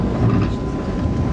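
A passenger train rolls over a bridge, a loud, steady rumble and rattle of the cars heard up close from on board, continuous for the whole short moment.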